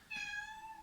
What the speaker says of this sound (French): désolé si vous entendez miauler